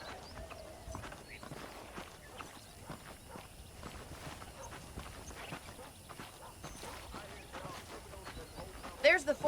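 A horse's hooves clip-clop at a steady walking pace in the video game Red Dead Redemption, fairly quiet and close, with people talking over them.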